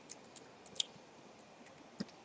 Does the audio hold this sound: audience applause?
no